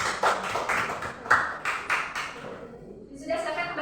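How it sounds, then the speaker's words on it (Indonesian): A short burst of classroom applause for a student, several claps in uneven rhythm at moderate level, fading out after a couple of seconds into quiet room tone. "Tepuk tangan buat Mbak Mita."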